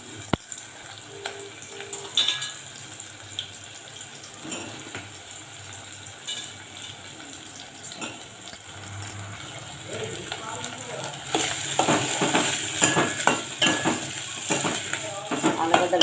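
Diced potatoes frying and being stirred in a pan while an aloo curry with peas is cooked, a steady soft sizzle with occasional scraping stirs, growing louder and busier toward the end, with a voice talking over it.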